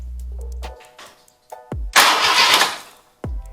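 An old Jeep CJ engine cranks and sputters close up, then catches with a loud, rough roar for about a second before cutting out and cranking again.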